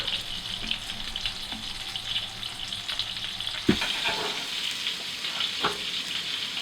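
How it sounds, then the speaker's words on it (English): Bannock sizzles and fries in a pan on an off-grid cabin stove, a steady crackling hiss with a sharp clatter midway as the bread is flipped, no voices over it. "I'm going to flip this guy, flip our bannock, that guy's cooking away"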